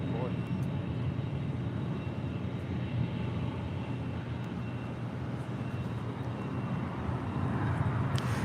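A jet airliner roars steadily on its takeoff run at LAX, a continuous broad engine rumble holding at a constant level throughout, with radio talk faintly under it.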